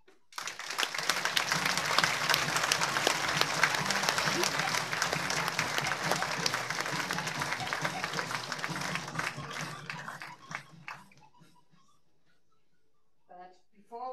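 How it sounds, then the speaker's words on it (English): A large crowd at the WorldSkills Competition 2022 Special Edition closing ceremony in Leonberg applauds the champions: sustained, dense applause for about ten seconds that thins and dies away, followed by a brief faint sound near the end. "Dear champions, this is your big applause."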